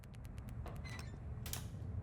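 Phone booth door in the video game Shadows of Doubt gives a series of short clicking, creaking ticks, quick and fairly close, ending in a denser rattling creak, over a low steady background hum.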